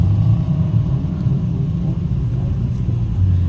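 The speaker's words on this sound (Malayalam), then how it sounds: "മുകളിലോട്ട് പോയിട്ട് താഴോട്ട് വരികയാണ് ഓരോ കാറുകൾ" Cars climbing and descending the desert dunes at Liwa, heard as a steady low rumble of engines from a distance, continuous with no clear single pass.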